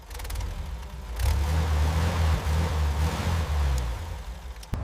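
A restored 1931 Alfa Romeo engine runs steadily with a low, smooth rumble that swells after the first second and holds at a near, even level, with a faint click at the very end.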